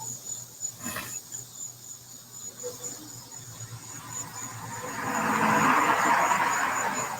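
Crickets chirp loudly and steadily outdoors, a continuous high trill that swells toward the end, with faint background noise beneath.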